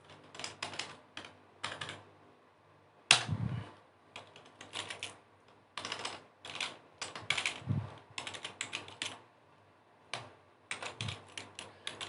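Someone typing a command on a computer keyboard while working in GNU Octave, quick bursts of close, crisp key clicks separated by short pauses, with occasional heavier keystrokes, quiet and alone.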